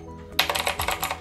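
Keys clack on a Dareu EK815S wired mechanical keyboard, a quick run of about ten crisp, close keystrokes in an irregular rhythm after a brief quiet start.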